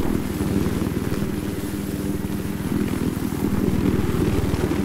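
A Little Bird helicopter's steady rotor chop drones continuously throughout in Battlefield 4, loud and fairly close, with a fast rhythmic thumping and no voices.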